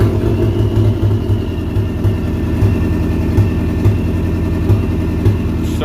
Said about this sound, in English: car starts up good now